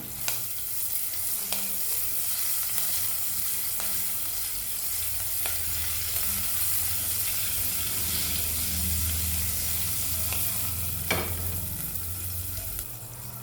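Green chillies and a pinch of asafoetida sizzle steadily in hot oil in a frying pan for Gujarati kadhi, a constant close frying hiss with occasional soft stirring clicks and no talk.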